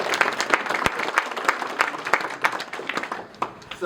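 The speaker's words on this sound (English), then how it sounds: "Let's give everybody another round of applause." A crowd at a small-town candidates' meeting in Rupert, West Virginia breaks into a round of applause, loud sharp claps in a lively, uneven rhythm filling the room, with a brief murmur of voices underneath.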